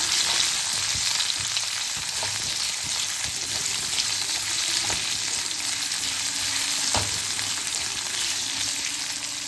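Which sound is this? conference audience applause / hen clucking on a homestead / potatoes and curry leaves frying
potatoes and curry leaves frying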